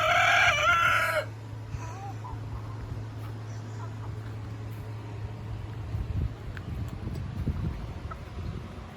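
A rooster crows loudly and near at the start, then chickens in a coop cluck softly and shuffle at low level, with scattered short calls and rustling.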